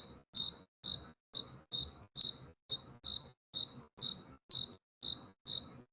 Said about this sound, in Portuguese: Tem um grilo aqui mesmo.